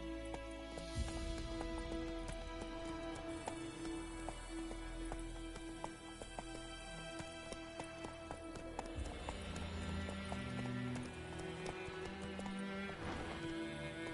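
Steady rhythmic hoofbeats of a galloping horse in The Witcher 3, continuous clip-clop under a dense layer of game music and ambience, with no pauses across the whole stretch.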